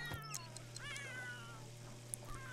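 A kitten meows several times in The Sims 3, short rising and falling cries over soft game background sound and a low steady hum.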